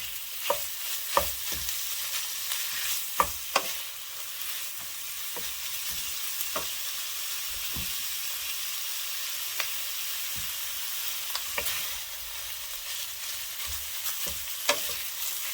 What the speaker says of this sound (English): we're going to brown our ground beef in here